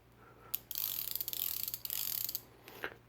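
Rapid, even ratcheting clicks from the internal pawl mechanism of a bicycle freewheel gear set being spun, a crisp close run of ticks lasting about two seconds, with a low steady hum beneath and no talking.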